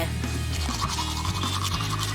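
A toothbrush loaded with toothpaste scrubs teeth in quick, close, continuous strokes over a low steady hum.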